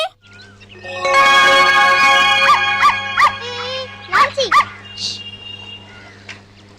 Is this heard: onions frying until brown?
no